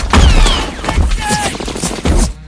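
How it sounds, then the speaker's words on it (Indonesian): Gunfire crackles through a Vietnam War battle scene in repeated loud bursts, mixed with shouting voices and whistling, chaotic combat noise. "Terjadi baku tembak yang sengit antara kedua belah pihak."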